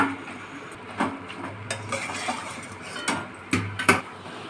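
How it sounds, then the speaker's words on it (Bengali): Spice masala being stirred in a cooking pot after hot water is added, for biryani: soft scraping and clinking of a spoon against the pot, with a few louder knocks near the end, no talk. "মশলাটা একটু নেড়ে নিচ্ছি"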